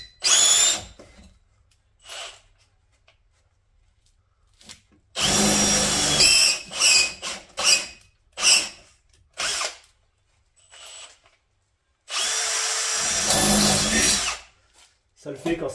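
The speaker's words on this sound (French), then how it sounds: "on va faire les trous et on pourra remettre le radiateur en place." A power drill boring holes to mount a new radiator on a Peugeot 205 GTI, in several short whirring bursts with pauses between, close by, with brief talk in the gaps.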